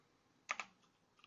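Two quick, crisp keystrokes on a computer keyboard, close and clear in a quiet room, followed by a faint third tap.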